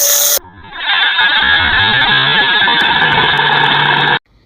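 A valve seat grinder fitted with a 45-degree stone works the exhaust valve seat of a Toyota cylinder head, giving a loud, steady high-pitched grinding whir for about four seconds that starts and stops abruptly.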